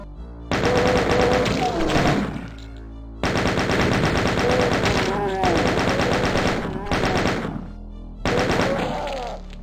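Rapid gunfire in the video game Doom, loud close bursts of machine-gun fire with short gaps between them, each burst a dense stream of shots.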